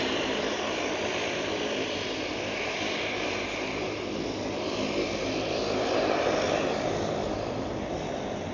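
Eurowings Airbus A320 coming in to land at Ponta Delgada airport, heard as a steady, broad jet roar at a distance that swells slightly as the aircraft draws nearer.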